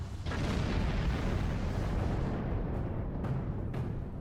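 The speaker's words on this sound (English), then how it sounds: "The explosions are rather loud." Starship explosions in the Star Trek Online video game, a loud continuous rumbling blast that fills the clip, with a few sharp cracks breaking through toward the end.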